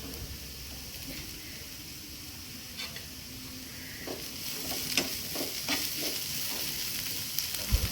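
Onion and green chillies fry in a pan with a steady hiss, and louder stirring scrapes and clinks of the spoon come in during the second half. No one speaks.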